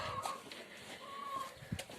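Quiet, scattered clucking from a few chickens nearby, soft and intermittent, with light background rustle.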